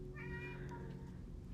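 A house cat meowing in a room, one drawn-out meow that is fairly faint beneath a steady low background hum.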